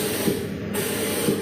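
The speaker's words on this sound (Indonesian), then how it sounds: "itu namanya spray gun ya." Spray gun test-firing before painting: a steady broadband hiss of atomized spray, continuous and fairly loud, with no voices.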